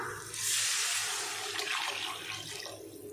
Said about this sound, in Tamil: இப்போ இதில் குழம்புக்கு தேவையான அளவுக்கு தண்ணி சேர்த்துக்கலாம்